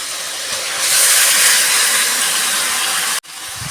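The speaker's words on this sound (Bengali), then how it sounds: "এইবার চিকেনটাকে দিয়ে দেব।" Chicken pieces are dropped into hot oil for chicken chaap and set off a loud, steady sizzle that swells about a second in and holds. It cuts out sharply near the end, then resumes.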